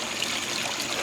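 Water pours into a backyard fish pond, a steady close splashing trickle with no pauses.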